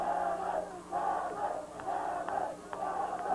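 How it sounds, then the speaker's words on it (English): Football crowd in a stadium at a high school game chanting a player's name in a repeating rhythmic pattern, several swelling cries from a large group of fans heard from a distance, with no talk over it. "The chant for Rich Cameron, alighting from the crowd."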